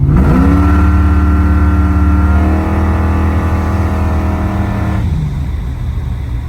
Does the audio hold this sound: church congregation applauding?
no